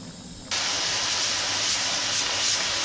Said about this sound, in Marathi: कुकरला उलटी व्हायला लागली.